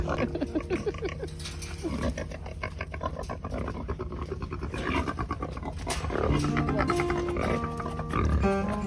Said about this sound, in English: that's how you load a pig up